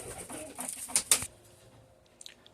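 Soft pigeon coos and fluttery bird sounds close by in a pigeon loft, with a couple of sharp louder bursts partway through, then quieter ambience.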